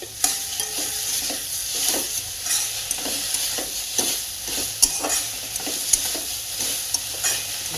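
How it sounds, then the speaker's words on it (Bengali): Sugar being stirred in a frying pan while making a raw papaya malpua batter, a steady scraping stir with a broad sizzling hiss underneath and regular sharper spoon knocks against the pan. "চিনিটা দিয়ে আমি একটু ভালো করে নাড়িয়ে"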